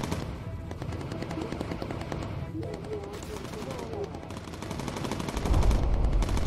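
Rapid bursts of machine gun fire from a bomber's gunner position in the World War II game Bomber Crew, dense and continuous, with heavier thuds near the end and voices talking over the shooting.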